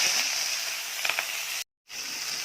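Onions sauté in hot oil with popped mustard seeds in a kadai, giving a steady close hiss and sizzle that briefly cuts out near the end.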